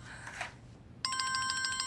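A telephone rings indoors, with a bright electronic trill that starts suddenly about halfway through and keeps going steadily. Just before it, there is a brief soft rustle.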